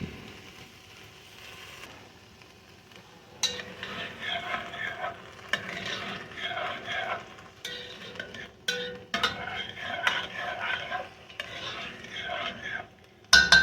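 Onions and peppers for a fish stew sauté in a pot. After a few quiet seconds a busy crackling sizzle rises, mixed with repeated utensil scrapes and clinks against the pot, close and steady, without speech.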